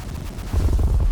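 Video game rocket barrage hitting an enemy base, heard as a dense rumble of overlapping blasts and booms that swells loudly halfway through the brief moment.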